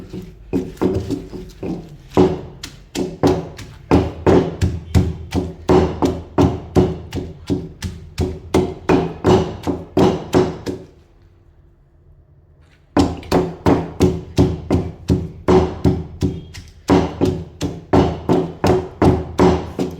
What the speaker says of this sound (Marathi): गिलके, मिरच्या, लसूण, टोमॅटो सगळं एकत्र वाटून घ्यायचं आहे असं कुटून।